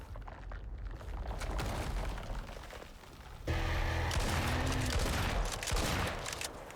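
Rapid gunfire in the survival game Icarus, a dense fusillade of shots that swells into a louder, sustained burst of firing partway through, with rumbling booms underneath.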